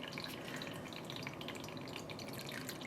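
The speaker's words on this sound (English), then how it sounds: "As I pour this liquid down. Now what's coming out the bottom is not very pigmented." Dye liquid trickles and drips through a makeshift filter, a steady soft patter of falling droplets that continues throughout at a quiet, close level with no talking.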